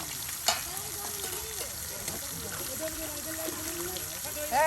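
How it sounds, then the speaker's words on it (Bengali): Lentil-flour pumpkin luchi fry in hot oil over an outdoor riverside cooking fire, giving a steady bubbling sizzle with a few louder pops and a short clatter at the end. "এই যে কত সুন্দর করে দেখুন তেলে দিয়ে দেওয়া হচ্ছে।"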